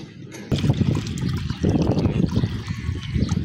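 Water is poured to fill a container, a close, steady splashing trickle that keeps going for several seconds with slight surges, heard alone.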